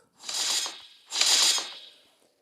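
Item crafting in the Eternium mobile game, two items made: two matching bursts of bright metallic, whooshing clicks, each about half a second, close and clear with no talk.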